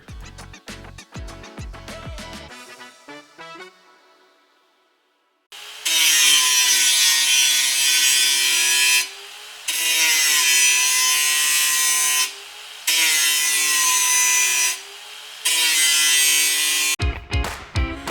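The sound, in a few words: grinding down car speakers to fit speaker rings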